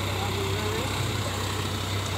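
A Sonalika Sikandar 50 tractor fitted with a two-metre Garud rotavator drones at a low, even pitch, faint and unbroken, with a quiet voice over it.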